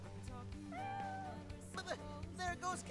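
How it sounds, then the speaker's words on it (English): A small cat meows a few times in Xenoblade Chronicles X, short tonal mews rising and falling amid game music, close and moderately loud. "There goes Kitty Cat."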